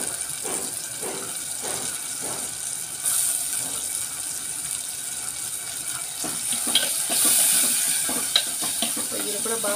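Prawns fry in a pan, producing a moderate, close sizzle with intermittent stirring scrapes and occasional louder hissing bursts, no voices heard.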